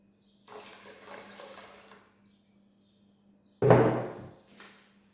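Water is poured into a meat stew in two bursts, a softer splashing pour followed by a louder, sharper one.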